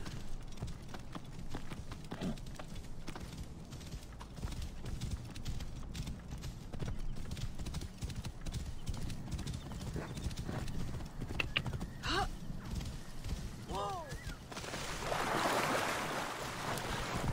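A horse trots in Assassin's Creed Origins, its hooves clip-clopping in a steady, continuous rhythm, with faint ambient game sounds and a brief whinny-like cry near the end.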